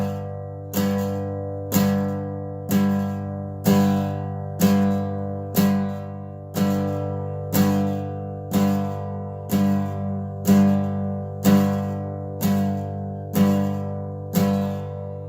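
Electric guitar power chord on the sixth and fifth strings, struck about every second in a steady even rhythm, each strum ringing and fading slightly before the next, with no voices.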